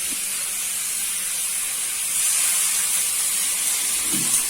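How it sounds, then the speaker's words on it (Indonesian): Water pours into a pan of chicken being cooked for an Indonesian soy-sauce chicken dish, a steady loud hissing rush that swells about halfway through, with no talk. "Aduk-aduk, baru kita tuangin air."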